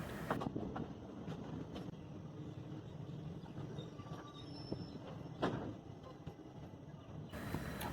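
A passenger train on a single-track line rumbles into a small station and slows, with low steady rolling noise, occasional clanks and a faint squeal of wheels.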